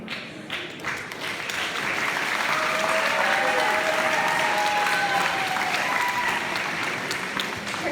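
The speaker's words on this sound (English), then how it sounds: "Give a round of applause." A room full of people applauds at a school sports banquet, steady close clapping that builds quickly and holds for several seconds, with a few voices calling out underneath.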